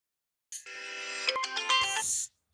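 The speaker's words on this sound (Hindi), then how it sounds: "बीच में यहाँ पे फ़ोन आया था।" A phone's ringtone for an incoming call plays alone for about two seconds, a bright electronic melody of quick tones that starts abruptly and cuts off, moderately quiet in an otherwise silent room.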